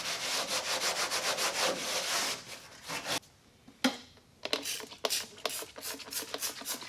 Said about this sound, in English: finish up grinding off the welds inside both sides of the wheel well